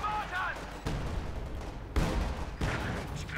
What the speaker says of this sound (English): another vicious barrage from an Su-76